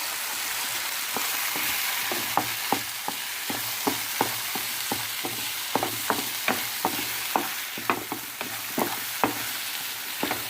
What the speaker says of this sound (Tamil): முட்டையை சேர்த்துட்டு நல்லா கிளறி விட்டுக்கோங்க.